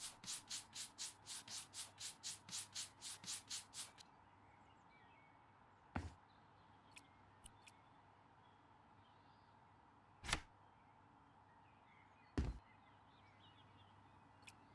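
Rapid rhythmic scrubbing strokes, about a dozen quick swipes, clean stains in House Flipper 2, followed by quiet room tone and a few sharp isolated clicks and thumps.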